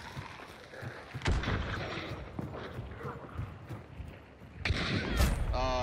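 Shotgun blasts in the Hunt: Showdown video game ring out as sharp booming reports: one near 1.3 seconds and a louder pair toward the end, over busy in-game ambience and faint movement.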